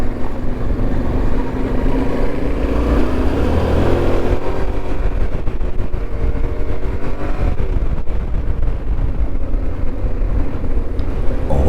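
A Yamaha Ténéré 700 motorcycle revs hard on a gravel track, the engine roaring loud and continuous with rising and falling throttle, and wind and road rumble run under it throughout.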